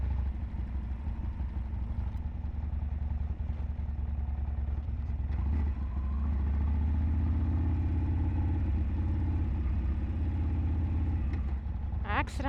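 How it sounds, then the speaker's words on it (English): Motorcycle engine running steadily under a rider on sandy ground, a continuous low rumbling drone with a slight rise in pitch midway as the gear changes down, close and loud throughout, with a rider's voice faint beneath. "I accidentally downshifted there."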